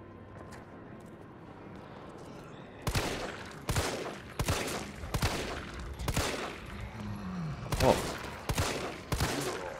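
Repeated heavy gunfire from a powerful gun in the Resident Evil 3 Raccoon City demo. About eight loud, booming shots come at a steady spaced rhythm after a few quiet seconds, and one brief voiced exclamation is heard among them.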